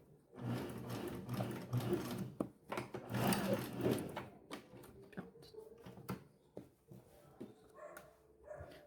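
Sewing machine stitching the seam of a straight skirt where the zipper goes, a moderately faint rapid mechanical whir that runs, then slows into separate clicks and taps.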